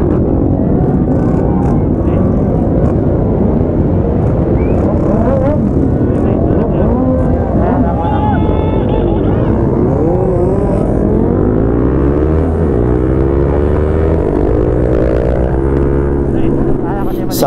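Big motorcycles set off on an 800 km endurance ride in Cagayan de Oro, a loud dense roar of many engines revving and pulling away close by, with a crowd and voices underneath and one bike's rising rev toward the end.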